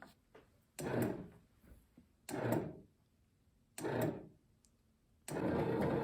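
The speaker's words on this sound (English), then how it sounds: "I'll give you a shot of what the dough looks like as it's being made by the bread machine." A bread machine starts kneading dough, with the motor running in four separate bursts of churning noise broken by short pauses, close and fairly quiet.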